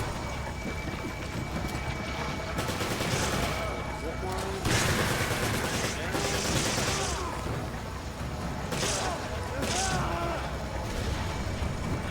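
Submachine gun fire in Resident Evil 5, loud broadband bursts repeating across the stretch, mixed with busy game action and what sound like voices.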